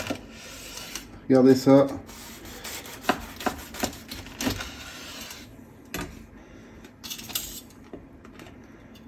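A sharp knife, steadied with tongs, slices through a homemade cordon bleu oozing melted cheese, giving soft scraping and rubbing cuts with small clinks, close by, while a voice speaks briefly.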